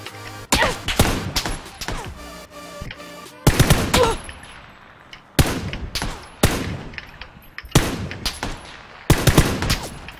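Shooting-game gunfire arrives in several loud bursts of rapid automatic shots, each cluster snapping in hard and then trailing off before the next volley, with short quiet gaps between them.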